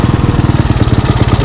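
A motorcycle engine, just started with a kick, runs close and loud with a rapid, even pulsing chug.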